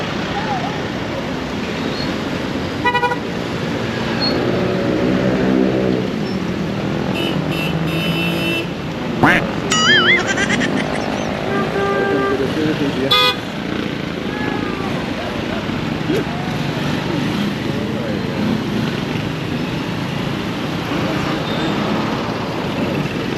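Road traffic rumbles steadily past, with a few short car horn honks cutting through near the middle. Voices talk intermittently over the noise.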